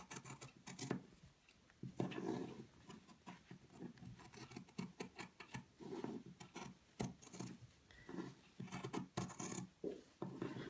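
Scissors cutting around the fabric of a sugar skull pincushion, a string of irregular crunchy snips and rustles of cloth, close and fairly quiet, coming in steady bursts throughout.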